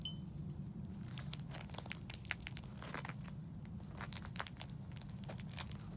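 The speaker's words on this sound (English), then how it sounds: "stepping on that snow." Footsteps crunch through snow close by, with a quick run of crisp, irregular crunches over a low, steady rumble.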